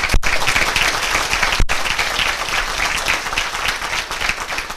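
An audience claps continuously for several seconds in dense, steady applause, broken by two brief dropouts, with only a faint trace of voices.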